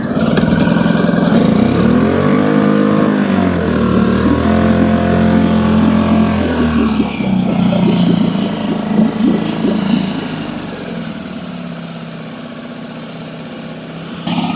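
Two outboard engines, a Tohatsu 20 hp EFI and a Suzuki 2.5 hp on an Orkney Coastliner 14 boat, run with a loud, steady mechanical drone and a rising and falling rev, settling into a lower idle near the end.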